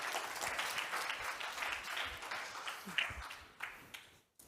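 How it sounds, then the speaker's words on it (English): Conference audience breaks into warm applause, a thick continuous patter of many hands clapping that gradually thins, with a few louder individual claps before it drops out at the end. "I would say another round of applause."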